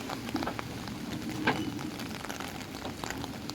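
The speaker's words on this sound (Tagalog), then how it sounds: "Ang lakas ng ulan. Grabe to." Heavy rain pours down in a steady, dense hiss that stays constant from start to end, with no one talking over it.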